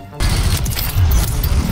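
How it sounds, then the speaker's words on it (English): Loud, dense bursts of video-game gunfire crackle on the Fortune's Keep map, a near, chaotic volley after a brief quiet start. "I'm getting shot to the right of me"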